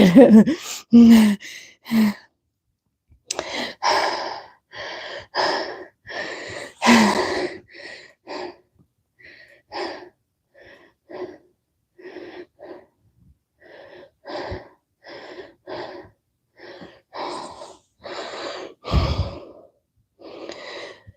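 Heavy breathing after a single-leg workout: a series of loud, close breaths and sighing exhales, irregular at first, then settling into a slower, evenly spaced rhythm of gasps and puffs with no talk.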